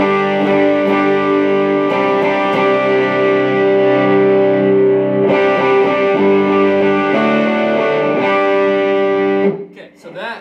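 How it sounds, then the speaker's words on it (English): Electric guitar played through an amp with heavy overdrive, thick distorted sustained chords ringing loud and close for about ten seconds before cutting off. "I'm going to turn the drive up a lot, and then you'll hear the difference here."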